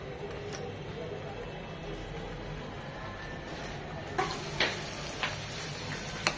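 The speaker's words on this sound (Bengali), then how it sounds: "সেদ্ধ করা আলুগুলো ভালোভাবে ছিলে নিয়েছি এখন এই তেলে ভেজে নেবো" Peeled boiled potatoes frying in hot oil in a pan for aloo bharta, with a continuous close sizzle and a few sharp taps from a spatula toward the end.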